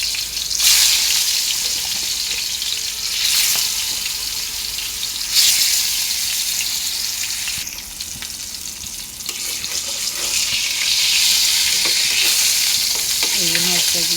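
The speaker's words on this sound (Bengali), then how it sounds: "এই যে মাছ ভাজি তেল দিয়ে দিলাম" Fish frying in hot oil gives a loud, steady sizzle with bursts of crackling and spitting, and there are occasional clatters and a brief splash of running water.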